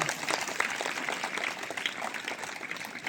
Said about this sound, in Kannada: ಒಮ್ಮೆ ಜೋರಾಗಿ ಚಪ್ಪಾಳೆ ತಟ್ಟಿ ನೋಡ